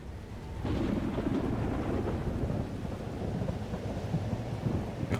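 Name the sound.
thunderstorm in the video game Life is Strange: Double Exposure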